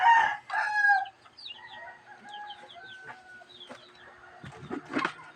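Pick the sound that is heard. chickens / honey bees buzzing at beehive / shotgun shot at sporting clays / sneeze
chickens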